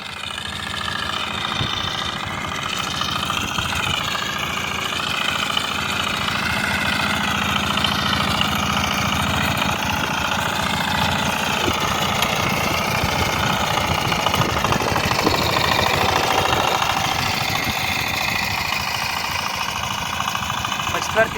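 A Zubr walk-behind tractor tills a field to seal in soil moisture before potato planting, its engine running loud and steady for the whole stretch with a rough, knocking chug.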